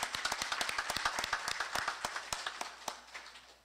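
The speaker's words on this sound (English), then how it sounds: "Give them a round of applause." A congregation applauds military veterans standing during a morning service, with sharp individual hand claps standing out in front of a softer crowd patter that thins out toward the end.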